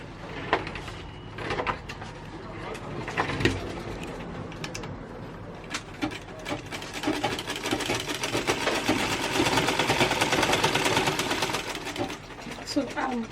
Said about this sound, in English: So I'm sewing straight to get to the end of my strap.